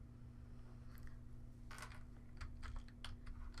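A few quick keystrokes tap on a computer keyboard, faint and close, over a steady low electrical hum.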